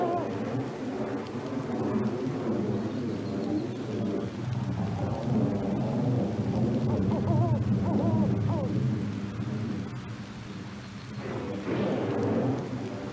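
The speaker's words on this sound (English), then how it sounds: "the roll of distant thunder and the splash of raindrops" Low thunder rumbles in the distance over a steady patter of rain, rising and fading across the stretch with no voices.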